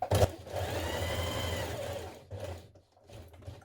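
Sewing machine stitching a 1.2 cm seam around the outer edge of a shirtdress collar, a steady close whir for about two seconds, then short bursts and a stop.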